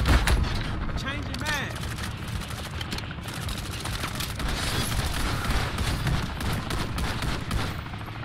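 A character's gun fires in MW3 Zombies, a video game. Dense, rapid gunfire and booms sound near and loud almost without a break, with voices talking underneath.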